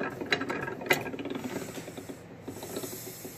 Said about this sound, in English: we're going to start cranking down on the handle to push the meat out